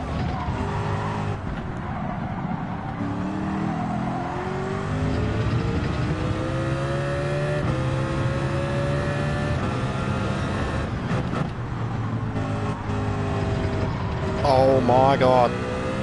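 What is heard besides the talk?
race car engine hitting rev limiter at Monza, racing video game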